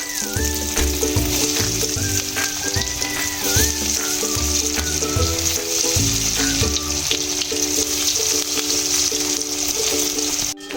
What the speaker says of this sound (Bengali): বাকি চপগুলো আমি ভেজে নিচ্ছি